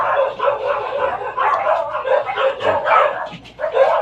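A dog barks and yips repeatedly, a run of close, fairly loud, choppy calls with brief whimpering tones mixed in.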